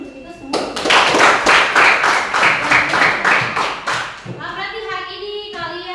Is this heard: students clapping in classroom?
yes